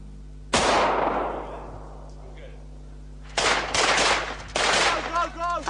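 Firearm shots crack at a shooting range: one loud blast with a long fading echo, then after a pause two more bursts of gunfire close together, with a voice briefly audible near the end.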